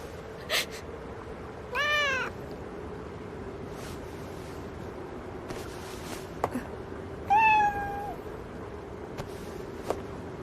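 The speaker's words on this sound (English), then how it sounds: "It's a cat." A cat meows twice in an animated scene, each call a short rising-and-falling cry, the second louder and longer, over faint background hiss and a few soft clicks.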